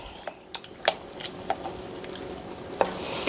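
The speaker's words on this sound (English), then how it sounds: "I'm going to give it a stir" A spoon stirs food with cumin in a pan over medium heat, giving a handful of faint, scattered clicks and scrapes against a quiet background.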